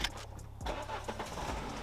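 A Renault Clio RS 200 Mk3 Cup Pack starts from its push button, the starter cranking briefly before the naturally aspirated engine catches and settles into a muffled idle, heard from inside the cabin.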